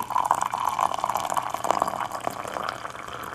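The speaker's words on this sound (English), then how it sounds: "Put in hot water, not so hot." Hot water pours into a vessel for brewing green tea, a close, steady liquid stream with bubbling and filling tones that runs without a break and slowly eases off toward the end.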